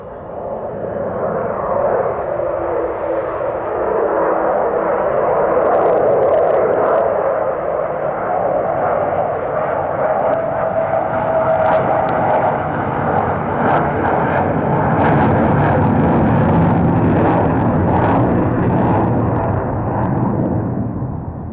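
A single aeroplane at an airshow passes overhead with its landing gear down, its engine roar loud and sustained. The sound swells and lingers steadily without any talk.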